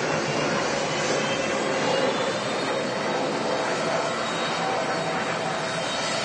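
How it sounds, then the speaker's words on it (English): Boeing 757 with its ram air turbine deployed after a test flight at Manchester Airport, giving a steady, loud broadband jet roar that holds throughout, with faint voices in the background. "757 with the Ram Air turbine deployed as part of the test flight it's just done"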